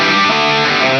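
Electric guitar through a super overdrive booster on a Valeton GP-200, a brief, dense, saturated sustained chord ringing loudly for about a second.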